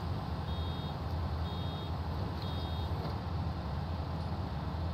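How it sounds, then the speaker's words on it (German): Warning beeps from farm machinery in Farming Simulator 19: a faint, high, evenly repeating beep, about three short bursts, sits over a steady loud engine drone. "Es piepst, Christian"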